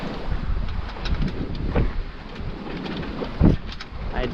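Wind buffets a microphone aboard a sailboat at sea moving under the mainsail alone, a loud rumbling gusty roar with a few stronger thumping gusts and no talk.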